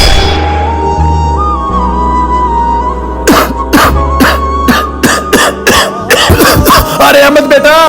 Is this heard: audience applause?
no